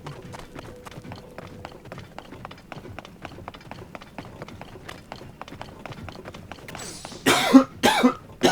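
Near the end, a few loud harsh coughs burst out close by, following a long stretch of quiet rhythmic tapping.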